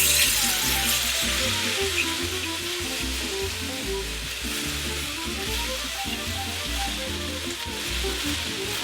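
Kung Pao chicken with green onion being stir-fried in a pan, a steady close sizzle with repeated scraping and tossing strokes in an uneven rhythm, no voices.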